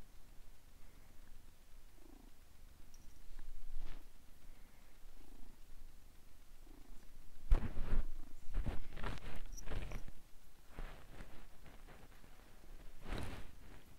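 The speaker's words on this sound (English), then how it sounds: "Here, listen to my cat purr." A pet cat purrs right against the microphone in soft rhythmic rumbles, faint at first and then louder and closer from about midway, with brief rustles and bumps as it shifts.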